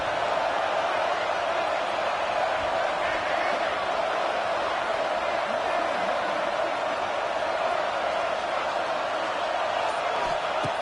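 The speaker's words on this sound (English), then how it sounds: "here comes the noise. This crowd is trying to inspire this defense to make a big red zone stop." A football stadium crowd at a college game against Oklahoma roars to inspire the defense before a critical red-zone down, a dense, constant wall of cheering noise that holds steady throughout.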